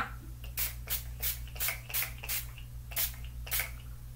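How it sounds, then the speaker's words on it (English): A series of short, hissing bursts of makeup setting spray, about nine in quick uneven succession, close to the microphone. "I'm finally done, so I'll put setting spray on again"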